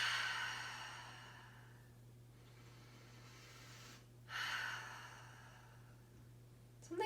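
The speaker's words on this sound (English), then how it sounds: "take a couple deep breaths." During a gentle beginner yoga session done on a couch at home, two slow, deep breaths are drawn in and released, soft and close, each a long airy exhale against a quiet steady hum.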